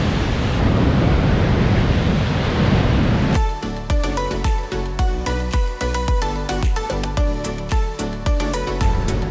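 Niagara Falls pouring roughly 75,000 gallons a second makes a loud, dense, continuous roar up close, lasting a few seconds before rhythmic music abruptly takes over.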